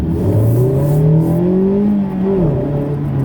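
A 2017 Mazda MX-5 Miata RF Club Edition with a 2.0-litre four-cylinder engine revs up under acceleration, a loud steady engine drone rising in pitch, dipping briefly, then climbing again, heard from close inside the car.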